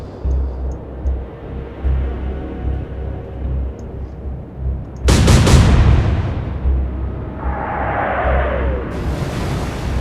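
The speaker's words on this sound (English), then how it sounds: "Another massive explosion across the centre, and she's just sunk." Massive explosion as a German destroyer sinks in the Atlantic Fleet naval video game: a sudden loud booming blast cuts through a low rumbling background, followed by a lingering roar and a rising whooshing tail.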